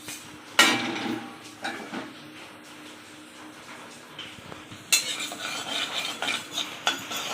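Small homegrown dried chillies with coriander, cumin and ajwain dry-roasting in a pan, a metal spatula scraping and clinking against it in bursts with a faint crackle in between.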